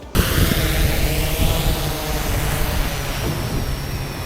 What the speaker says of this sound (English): that's the drone just been put up for a minute